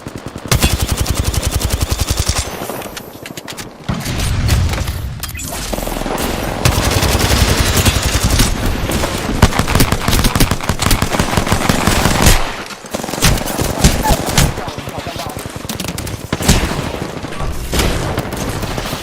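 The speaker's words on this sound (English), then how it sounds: "Hostile spotted. I'm taking fire." Rapid automatic gunfire from a video game shooter, sustained bursts and heavy volleys rattling loudly and nearly nonstop, with brief gaps and occasional booms layered in.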